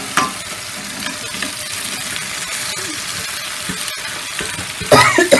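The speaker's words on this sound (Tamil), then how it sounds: "இப்போ நம்ம இந்த கட் பண்ணி வச்ச ரத்தத்தை போட்டு போதில்ல" Cut goat blood frying with pepper in a pan, a loud continuous sizzle with stirring scrapes, a few sharp utensil knocks, and a burst of harder crackling near the end.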